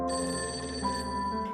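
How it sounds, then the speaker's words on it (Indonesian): A telephone rings with a steady electronic bell tone, sounding continuously and close for over a second, alone and without any speech. "tiba-tiba telepon berdering"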